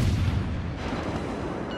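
A naval gun volley in World of Warships, a deep booming blast with a rumbling tail that fills the short moment, loud and close.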